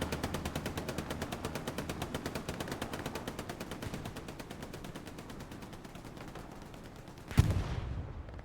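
Hell Let Loose battle din: dense, continuous rapid gunfire rattles steadily for several seconds, then a single sharp, heavy blast from artillery fire cuts through near the end.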